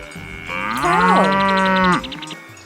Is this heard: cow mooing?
yes